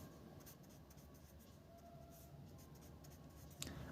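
Pen or pencil writing a number on paper, a soft continuous scratching stroke close up, steady and quiet with no talk over it.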